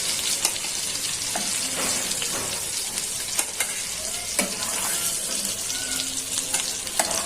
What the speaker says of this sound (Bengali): কাতলা মাছের পিসগুলো এখন ভেজে নিব।